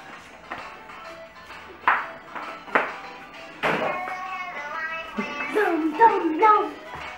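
A mobile phone notification ping sounds at a beach or pool outing, a few short bright tones close by, with brief taps and knocks before it and a voice and other speech around it.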